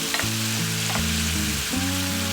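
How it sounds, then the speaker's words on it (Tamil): Yellow pumpkin curry stirred in a hot pan, with a steady close sizzle and short scraping strokes of the spoon across the pan. "இதை நல்லா மிக்ஸ் பண்ணி விட்டுட்டோம்."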